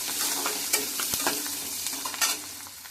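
Potato and onion sizzle steadily in a hot pan for drumstick masala curry, with a few brief stirring scrapes rising above the continuous frying hiss; close and fairly loud, no voices.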